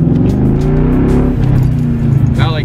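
Cars rolling past on a road near a Mustang GT, a loud close engine drone with shifting tone that swells and fades as they go by, with a brief higher whine near the end.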